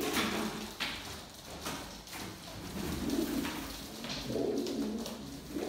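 Pigeons cooing inside a coop, several soft low coos that rise and fall in repeated bursts, fairly close, with faint rustling and no talk.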